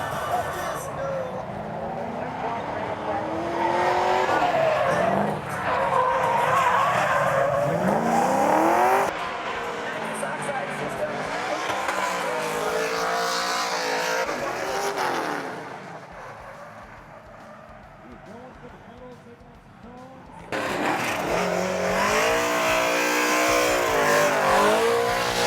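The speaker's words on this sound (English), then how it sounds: "We decided to check out the drifting events, which includes entry-level drivers who are just cutting their teeth and learning car control, as well as a few pro drivers." Drift cars at an LS Fest drifting event on a flat track, engines roaring and revving hard with long squealing tires, loud and continuous with brief dips as cars pass, while someone narrates over the noise.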